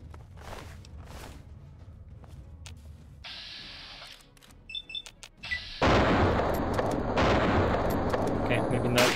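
Gunfire in modded Fallout 3, with a few scattered shots early, then a loud, sustained burst of fire that dominates the final seconds.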